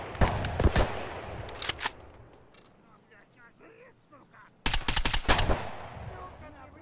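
Bursts of gunfire in the Escape From Tarkov beta on the Customs map, a loud volley at the start, a quieter gap with people talking, then a second sharp close burst.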